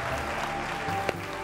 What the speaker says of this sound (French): Merci, on va l'applaudir très fort encore s'il vous plaît.